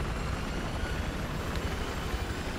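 Helicopter rotor and engine drone in the Battlefield 4 video game, a steady low rumble that holds evenly throughout without a break.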